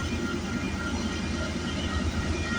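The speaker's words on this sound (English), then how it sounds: "So let's see how many engines we got on this westbound train." A westbound CP freight train led by multiple locomotives rolling past, a steady loud low rumble of engines and rail noise with no pauses, close by and unbroken by talk.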